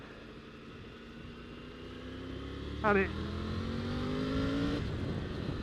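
A 2024 Triumph Tiger 900 GT Pro motorcycle engine hums and rises steadily in pitch as it revs, with a brief voice speaking over it partway through.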